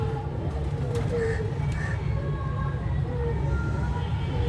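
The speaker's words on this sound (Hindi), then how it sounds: "परिंदों की गुड़गुड़" Birds coo and chirp softly in the distance on an evening with light wind, a faint low murmur over a steady outdoor background.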